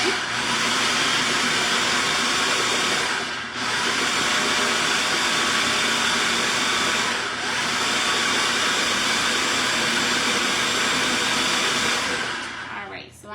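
A food processor whirs steadily, pulsing pumpkin muffin batter with cinnamon, running loud and continuous with two brief pauses between bursts and a stop at the end.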